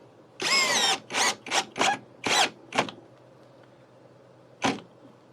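A Hyper Tough 4-in-1 installation driver, model CD0801, set to drill mode, gives six short whirring bursts in quick succession, then falls quiet before one last brief burst; close and loud, with no talking.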